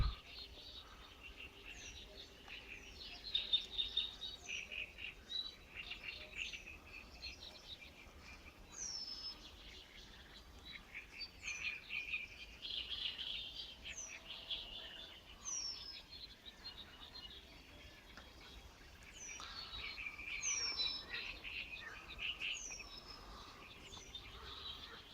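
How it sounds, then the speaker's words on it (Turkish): Small birds chirp and call repeatedly over a faint, steady background of frogs and insects in a wetland at Mollaköy, Sakarya, heard in the early morning, distant and soft with no talking. "Buraları sabahleyin işte bu kuş sesleri, kurbağa sesleri ve farklı kuşların ötüşleriyle renkleniyor"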